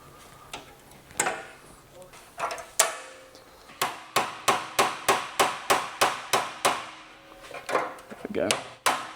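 A hammer strikes a bent inner fender skirt on a Chevrolet Monza being straightened after an accident, sharp metallic blows coming first irregularly, then in a steady rapid series before trailing off, loud and close.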